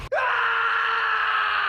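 A single loud, sustained scream in the 2020 film The Island of Giant Insects, rising sharply at the start and holding steady for over a second, close and alone.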